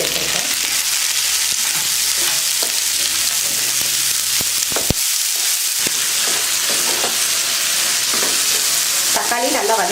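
Chopped tomatoes and mint leaves sauté in a pan for chutney, a steady loud sizzle with repeated stirring scrapes and spatula taps throughout.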